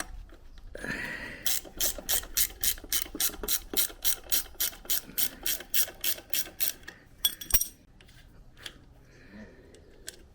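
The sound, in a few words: undoing the rear wheel nut on a Yamaha YG1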